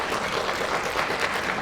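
A lecture audience at a humanities talk claps together in a steady, dense burst of applause that fills the short moment without any speech.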